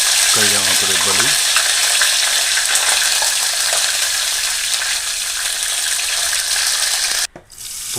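Tempering of urad dal, cumin and curry leaves frying in oil, a steady close sizzle with brief stirring clatter early on and a short scrape near the end, no talking.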